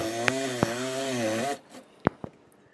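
A power saw bites into wood, cutting a hole for bathroom drain plumbing beneath a tub, a steady buzzing drone for about a second and a half before stopping, followed by a couple of sharp knocks.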